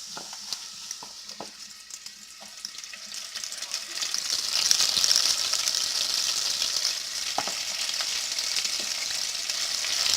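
Food fries in hot grease with a constant bright crackling sizzle that grows louder and denser partway through, punctuated by sharp pops, while voices talk quietly in the background early on.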